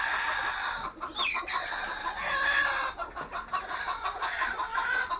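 Free-range desi country chickens in a low-cost bamboo poultry shed cluck and call continuously, close and fairly loud, with bursts of busy chatter across the flock.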